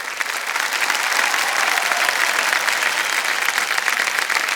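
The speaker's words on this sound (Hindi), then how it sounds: "जोरदार तालियां बज जाएं इनके लिए" Studio audience on KBC clapping loudly for a contestant, a thick, continuous wash of applause that swells briefly at the start and stays full.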